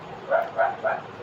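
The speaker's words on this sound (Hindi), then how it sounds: "यार कुत्ते बहुत भौंक रहे हैं" Several dogs bark somewhere outside during a live geography class, three evenly spaced bursts of barking at moderate volume with no talk over them.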